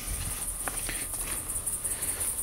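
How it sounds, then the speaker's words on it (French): Cicadas at night in a French cemetery in mid-June, a continuous high shrill buzz holding steady throughout, with faint rustling and shuffling steps underneath. "On entend les cigales."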